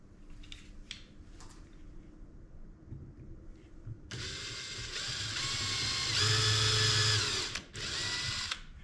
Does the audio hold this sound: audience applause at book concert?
no